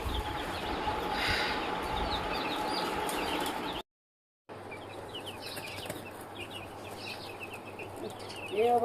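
Hens clucking in a backyard flock of newly brought chickens, a steady busy chatter of clucks heard up close with a short silent break midway; faint rustling and a few louder calls come near the end.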